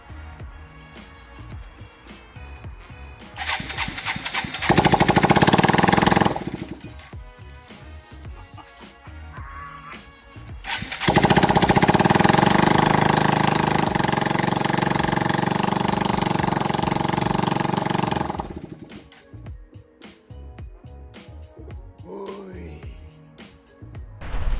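A 125cc motorcycle engine with its exhaust removed runs loud and raw in two long bursts, revving harshly, then dropping back to a rough, quieter idle between them.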